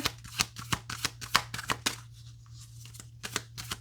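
Tarot cards being shuffled by hand in quick, crisp bursts of riffling and flicking, close and fairly quiet, with a brief pause midway and no speech.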